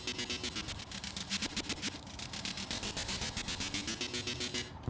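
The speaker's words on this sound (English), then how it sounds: "it kind of moves the distortion from no to a lot of distortion" A mixing-desk distortion effect in Dreams on PS4 chops the sound into harsh, buzzy static pulses in a fast rhythmic stutter, rough and grainy throughout, heard alone at low level.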